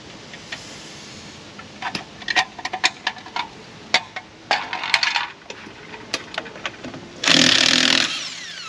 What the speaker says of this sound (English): Now take all 8 other lug nuts off